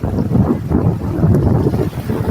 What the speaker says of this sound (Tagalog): Sarap na simoy ng hangin.